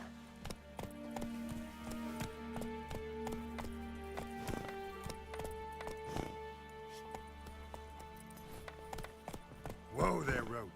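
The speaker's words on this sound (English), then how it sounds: "Whoa there, Roach." Hooves of the horse Roach clip-clop in a steady gallop through The Witcher 3, overlaid by game music and speech, with a louder burst near the end.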